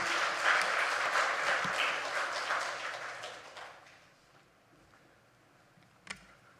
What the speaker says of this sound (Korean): 우리 박수로 목사님 환영하겠습니다.